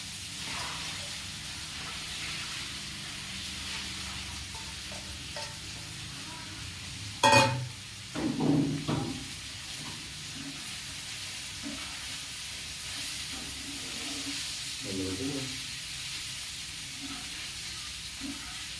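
Washed flattened rice frying in a pan with already-fried onion and tomato: a steady, soft sizzle with brief louder stirring scrapes partway through.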